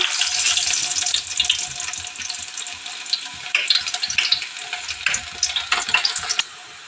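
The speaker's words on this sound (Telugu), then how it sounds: "ఉల్లిపాయలు అయితే వేసేసుకున్నామండి నూనె అయితే కాగింది" Onions sizzle steadily in hot oil in a home kitchen pan, a close, loud continuous crackle with occasional stirring scrapes and no talk.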